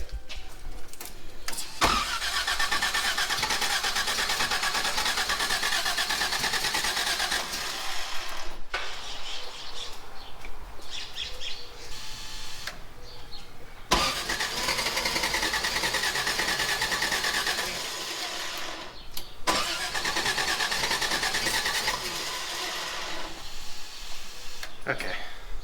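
Toyota FJ60 engine with a new alternator bracket, radiator and hoses cranking and catching, loud broadband engine roar running in long bursts separated by brief drops, close by, with a voice talking in places.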